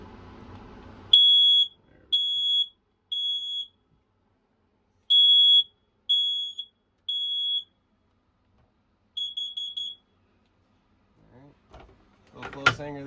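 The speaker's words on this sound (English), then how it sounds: "Smoke detector right up above our heads here." Smoke detector alarm mounted on the ceiling of a 2023 inTech Sol Horizon Rover RV, sounding a series of loud, shrill electronic beeps with gaps between them. A brief rustle follows near the end.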